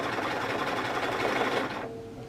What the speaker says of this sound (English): Alright, so last little step with the sewing machine.